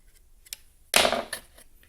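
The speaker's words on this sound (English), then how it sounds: "we're just going to use a flathead and pry this off." A flathead screwdriver prying a part off a Harbor Freight Portland pressure washer during a rebuild, giving one sharp scraping pop with a brief rattle after it, close and alone.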